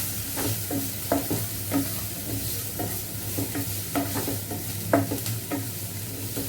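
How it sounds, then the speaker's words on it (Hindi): Small chopped onion pieces sizzle and crackle steadily in hot oil in a pan, with soft stirring scrapes and occasional louder pops, no voices, while cooking leftover upma. "ये प्याज जो है ना वो बहुत ज़्यादा नहीं भुनना होता"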